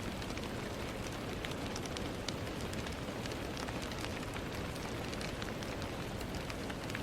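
Steady heavy rain falling on a surface at night, a dense continuous patter with scattered sharper drop ticks, close and even throughout with no voices.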